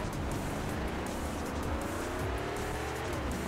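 A car in the video game Fast and Furious Showdown drives with a steady, loud engine drone and tire noise, a continuous racing roar with no break and no voices.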